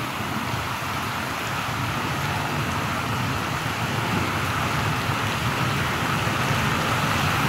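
Steady, heavy rain pours down on flooded streets near LRT Taft Buendia, Pasay City, in a dense continuous hiss, close and unbroken throughout, with a low rumble underneath.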